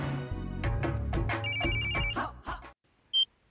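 A telephone ringtone plays loudly as a musical jingle for a couple of seconds, then cuts off, followed by a short electronic beep.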